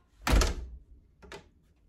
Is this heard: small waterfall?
no